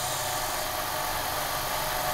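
A steady, loud mechanical drone of a Lincoln LCS50 silent air compressor running continuously at about a metre away, around 74 to 78 decibels, with a constant hiss and low rumble and no pauses.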